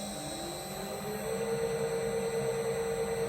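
A Bridgeport milling machine head runs in high gear after being switched back into forward at about 450 RPM. It gives a steady, close mechanical hum whose whine climbs in pitch as it comes up to speed and then holds level.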